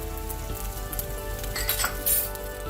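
Chopped onions, whole spices and garam masala fry in a hot pan with a steady crackling sizzle, close and moderately loud, with a couple of light metallic clinks of a utensil against the pan.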